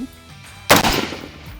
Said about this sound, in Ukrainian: І я виконую перший постріл